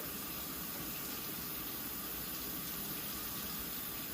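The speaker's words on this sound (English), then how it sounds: "I have really, really, really hot water coming out of my tap. And so I'm just going to use that." Very hot water runs from a kitchen tap in a steady, even rush, a constant close hiss of flow with no change in level and no talking over it.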